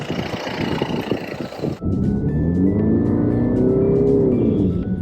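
Car accelerating while driving, its engine drone rising steadily in pitch as it gathers speed, a loud continuous rumble after a brief rough patch, with no talking.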